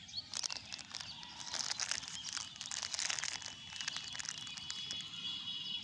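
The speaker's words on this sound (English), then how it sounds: "I collected this plastic" Plastic garbage crinkles and crunches in bursts, close and fairly faint, as it is crumpled and gathered outdoors on grass during a cleanup, with birds chirping in the background.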